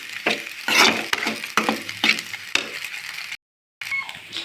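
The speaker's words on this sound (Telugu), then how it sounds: "ఇలా గోల్డెన్ కలర్ వచ్చేదాకా వేయించాలి." A snack fries in a pan while it is stirred, with a steady sizzle under repeated scraping strokes of the spoon, close up. The sound breaks off into brief silence before resuming.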